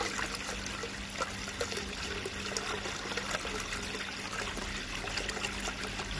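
Water from a 75W solar-powered pond pump pours over a spillway into a pond, a steady close splashing trickle that runs unbroken throughout with no talk.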